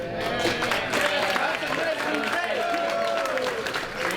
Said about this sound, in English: Give her a round of applause, Ms. Coe.